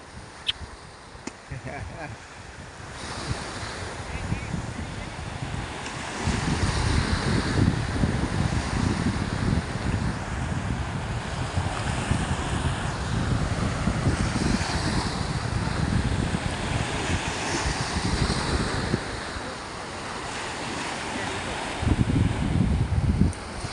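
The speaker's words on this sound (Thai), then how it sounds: "เพราะว่าวันนี้คลื่นแรงนะครับคลื่นสูงแล้วคลื่นแรง" Strong, high sea waves and gusting wind at a beach, a loud continuous roar of surf and wind noise buffeting the microphone, with surges of crashing water rising and falling.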